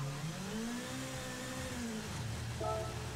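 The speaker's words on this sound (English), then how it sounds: "The sound of the engine's good." The engine of the Toyota FT-1 car in the video game Gran Turismo 7, racing at Kyoto Driving Park, a steady droning engine note with pitch sweeps rising and falling as it revs through gears, continuous under faint background noise.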